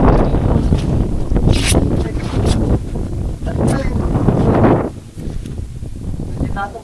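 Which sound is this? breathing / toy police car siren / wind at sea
wind at sea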